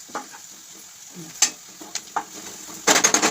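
Sliced onions with turmeric fry in hot oil for a mushroom curry, giving a soft steady sizzle broken by a few sharp spatula scrapes and a closing burst of quick stirring clatter.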